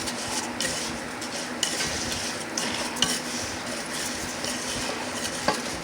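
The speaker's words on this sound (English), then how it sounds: "stirring the rice constantly, brown it till it's golden and puff" Rice being stirred constantly in a hot pan to brown it for Mexican rice, a quiet scraping and gentle sizzle with occasional light spoon taps against the pan.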